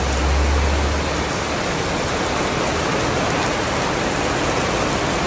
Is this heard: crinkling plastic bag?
no